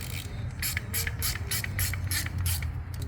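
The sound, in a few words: threading bolt in with Torx Plus bit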